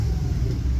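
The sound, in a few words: 351 Windsor V8 engine idling high in catering truck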